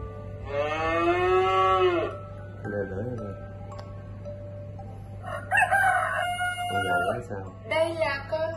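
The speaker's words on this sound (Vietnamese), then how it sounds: "Đây là con gà trống." A rooster crows in a long, loud call at the start, followed by further crowing and animal calls mixed with other cartoon-like sounds, while a steady background hum runs beneath.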